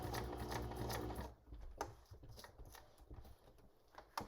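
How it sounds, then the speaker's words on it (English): A sewing machine runs a straight stitch on paper, with a steady close whir for the first second, then lighter intermittent stitching ticks that continue quietly. "Okay, so I'm going to use a straight stitch down this side."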